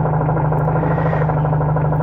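A car idles with a worn clutch release bearing that has play, giving a steady engine hum with a low clattering rattle underneath and no talk.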